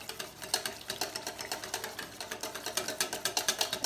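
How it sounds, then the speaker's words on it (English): Rapid rhythmic whisking of a mixture in a bowl, a quick steady train of light metallic strokes close by for about four seconds, no voices. "we're gonna whisk as we add a little bit"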